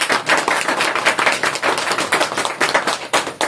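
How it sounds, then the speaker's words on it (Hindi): A live audience gives a burst of loud, dense applause for a speaker's guru at a stage event, many hands clapping rapidly and continuously without a pause. "तो एक बार मेरे गुरु के लिए जोरदार ताली।"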